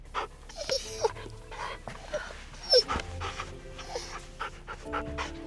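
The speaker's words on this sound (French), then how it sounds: "Oh, chérie, emmène le chien dehors" A cartoon dog pants and whimpers in short, breathy bursts with a few thin yips, close and fairly quiet, with brief bits of voice around it.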